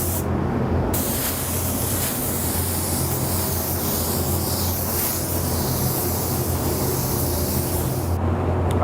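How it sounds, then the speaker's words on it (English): A spray gun lays down Hot Rod Sparkle White pearl coat in a steady, close hiss that runs for several seconds without a break and stops sharply at the end. "While we were spraying our Hot Rod Sparkle White"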